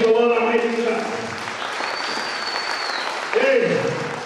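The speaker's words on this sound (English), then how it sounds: "Let's give the Lord a mighty clap." A church congregation claps in a broad, dense wash of applause filling the middle of the stretch, with a loud voice speaking at the start and again at the end.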